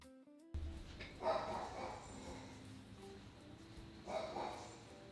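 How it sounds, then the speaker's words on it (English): A dog barks at a garbage collector outside, with two muffled, fairly distant bursts of barking over quiet room tone after a brief electronic tone at the start. "My dog's freaking out because the garbage man is outside."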